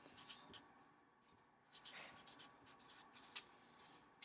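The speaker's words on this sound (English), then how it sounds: "I'm just going to kind of write other things" Pen scratching across paper in faint, intermittent strokes, quiet and close, with brief soft scrapes and a sharper tick near the end, under light background speech.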